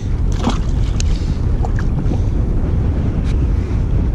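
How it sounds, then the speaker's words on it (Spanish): A strong sudden gust sweeps a beach at Mar de Ajó during a fishing outing, a loud, close, continuous roar of wind buffeting the microphone over the wash of the sea, with no talking. "Mira cómo levanta viento de golpe."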